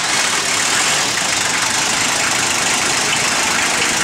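A diesel engine in a 1984 FJ60, started without a radiator fitted, idles steadily nearby, a loud, even rumble with a faint knocking chatter throughout.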